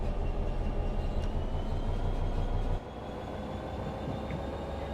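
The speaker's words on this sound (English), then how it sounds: "It feels a little bit weird to see a locomotive traveling light all by itself." A British Class 66 diesel freight locomotive runs light with no wagons in Train Sim World 5, a steady low engine drone and rail rumble that drops to a softer level partway through, with no talking.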